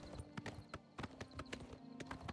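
Horse hooves in The Elder Scrolls IV: Oblivion Remastered clop in a quick, even gallop rhythm, crisp and close, heard alone with no talk over them.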